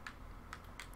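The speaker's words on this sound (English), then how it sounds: "just type in summon" A computer keyboard typing a console command to summon a creature in ARK: three light, evenly spaced key clicks over a low steady hum.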